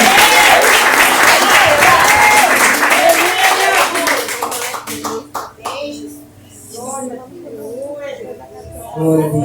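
Church congregation applauding the Lord Jesus during a worship service: loud, dense clapping for about five seconds, then fading into scattered claps under a voice and a sung or chanted line, with clapping swelling again at the end.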